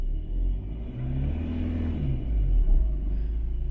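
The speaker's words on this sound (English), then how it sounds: "So if I rev the engine a little bit" A car engine revs during a diagnostic check with a scan tool, making a steady low rumble that swells slightly toward the end, close and continuous with no talk over it.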